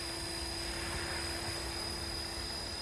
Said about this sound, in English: we're just going to continue the hovering with no stability mode